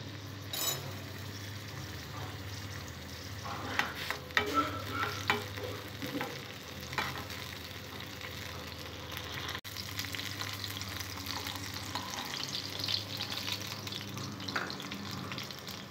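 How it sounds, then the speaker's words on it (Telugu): Green chillies fry in hot oil in a pan for a gongura chutney, giving a continuous sizzle with busy stirring scrapes and clicks throughout, loud and close. "ఆయిల్ వేడిన తర్వాత పచ్చిమిరపకాయలను ఫ్రై చేసుకోవాలి"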